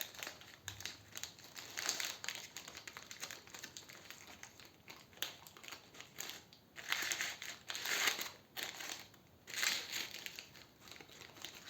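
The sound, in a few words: aluminium foil being crinkled open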